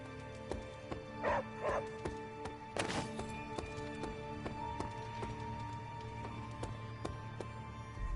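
A dog in Marvel Midnight Suns gives a few short close barks early on, then a sharper yelp around the middle, over a quiet steady game ambience.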